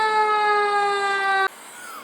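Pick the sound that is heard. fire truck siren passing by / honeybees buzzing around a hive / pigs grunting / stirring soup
fire truck siren passing by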